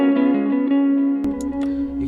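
An electric guitar sustains a chord through a Line6 Helix, its delay and reverb tails cut shorter when a stomp switch is pressed, followed by a low thump and a few fading notes.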